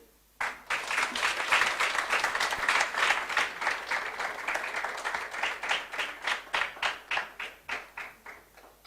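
Audience at a Naija diaspora symposium applauding after a speech: a burst of clapping starts abruptly, holds steady, then thins into slower, separate claps that fade out.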